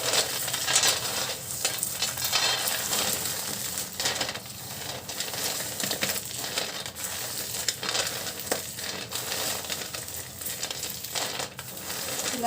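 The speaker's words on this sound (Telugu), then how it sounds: "ఇలా నలిపేస్తే పొట్టు త్వరగా పోతుందండి." Roasted peanuts are rubbed and crushed by hand to loosen their skins, giving a continuous dry rustling and crackling with small brittle clicks at close range, with no talking.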